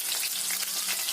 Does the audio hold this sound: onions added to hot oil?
yes